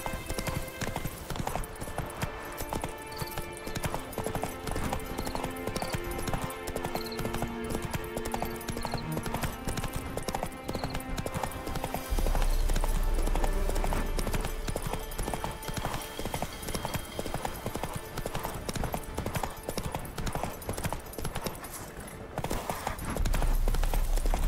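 The horse Roach gallops in The Witcher 3, its hooves keeping up a steady, continuous clip-clop for the whole stretch, fairly loud, with game music and ambience underneath.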